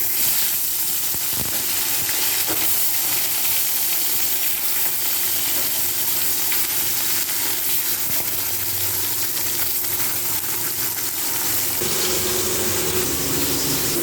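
Oil hisses in a hot wok, a steady, close, broadband sizzle with faint clinks, while the pan heats to fry fish.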